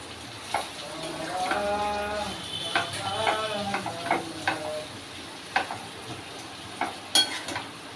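A spoon stirs golden-fried onions and added ingredients in a cooking pan, giving repeated scraping and clinking strokes over a soft sizzle, with brief voice-like tones in the background.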